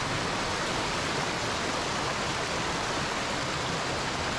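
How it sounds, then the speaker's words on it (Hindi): A river in Neelum Valley rushes with a dense, steady roar of churning water, loud and constant with no breaks or voices. "आप सुन रहे हैं कि पानी का शोर है"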